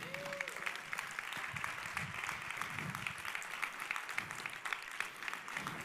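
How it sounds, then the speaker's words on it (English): An audience gives a round of applause after a speaker on quantum computing is introduced, dense steady clapping filling the room at moderate level with no gaps. "let's give whurley a big round of applause."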